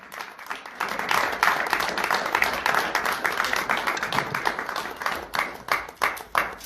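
Acclamation for a padre at a church gathering: sustained crowd applause with dense clapping that thins into a few louder separate claps toward the end.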